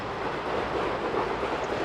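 A train running in a rail-transport video game gives a steady, continuous rumble of rolling wheels and engine noise at an even level throughout, with no voices.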